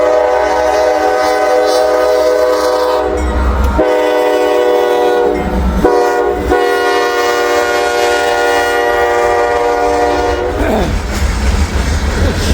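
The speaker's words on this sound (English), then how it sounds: "Train's another train." A train rolls past close by, sounding long, loud horn blasts over a steady heavy rumble and rail clatter.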